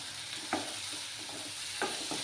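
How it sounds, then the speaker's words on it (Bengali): Spice paste for a dry fish curry frying in a pan, a soft continuous sizzle with a few light scraping stirs of the spoon, fairly quiet and with no talking. "ভালোভাবে মশলাটাকে কষিয়ে নেব।"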